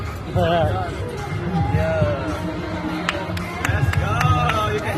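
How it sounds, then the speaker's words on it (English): A crowd claps along during a university clubs and societies registration week event, scattered clapping mixed with chatter and cheering voices, with people talking over it throughout. "Come on, give me some more clapping."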